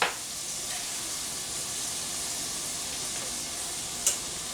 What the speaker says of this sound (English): We're just going to let these onions kind of sweat down, get nice and soft and translucent.